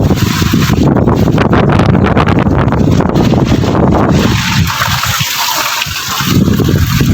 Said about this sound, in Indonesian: ini airnya deras sekali